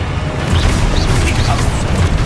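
An explosive spell goes off in Hogwarts Legacy combat, a loud booming burst with a thick low rumble and crackling debris filling the whole moment, dense and close.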